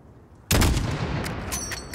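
A rifle shot cracks in the video game Call of Duty Modern Warfare, one loud close blast followed by a ringing echo and scattered distant reports.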